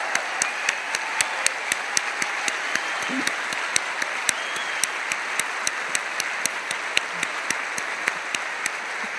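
Applause at a Christian conference fills the room: a steady, fairly quiet wash of many hands clapping, with a few sharp claps standing out now and then. A voice comes through faintly underneath.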